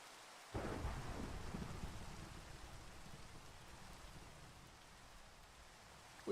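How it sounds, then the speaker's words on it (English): A rumbling thunderclap breaks abruptly over steady rain in a Minecraft thunderstorm, then trails off into a quiet, continuous rain hiss that holds to the end. "The storm and everything's over there."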